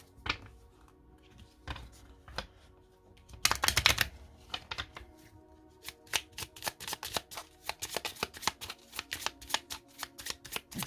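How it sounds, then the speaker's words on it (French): A deck of oracle cards shuffled and cut by hand, scattered flicks at first, then a burst of riffling and a long run of rapid, crisp snapping card sounds, close and clear. "Et on va faire une coupe avec 8 cartes."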